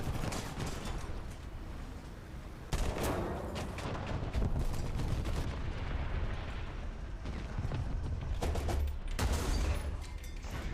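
Loud tank cannon and gunfire from War Thunder, a WWI-era Char FCM 2C heavy tank battle, with dense, continuous booming bursts and rumbling explosions filling the whole stretch without pause.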